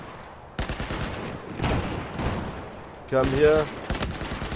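Gunfire bursts in the Battlefield 4 game on the Operation Metro map, several rapid volleys across the clip, loud and close, with a voice talking in between.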